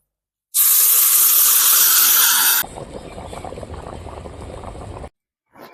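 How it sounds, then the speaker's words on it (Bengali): Hot water pours into a pot of frying yam curry on a clay stove, a loud hissing rush for two seconds, then a softer rolling bubble of boiling before it cuts off. "এইমাত্র গরম জল দিয়েছি তো জালও উঠে গেছে টকবক করে ফুটছে"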